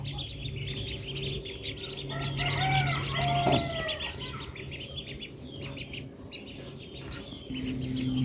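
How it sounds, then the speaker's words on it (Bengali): Ducks feeding, with fowl calls, clucks and a few chirps over a steady low hum and outdoor background noise. "তো দেখেন হাঁসগুলান ব্যস্ত হয়ে গেছে কিছু খাওয়ার জন্য।"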